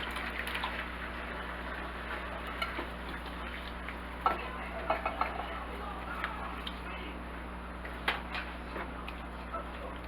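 Fire-roasted diced tomatoes go into a pan for lasagna sauce, giving a soft, steady sizzle with a few light stirring clinks and scrapes, all fairly quiet and close.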